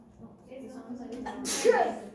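A single sharp sneeze bursts out near the end of a quiet moment in a university cell biology lecture hall, loud and close against faint room murmur.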